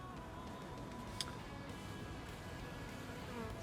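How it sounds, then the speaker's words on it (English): Bees buzzing around Brugmansia (Angel's Trumpet) flowers outdoors, a steady droning hum with shifting pitch as they move close, continuous and fairly loud, with one faint tick partway through. "You can see there's some bees around."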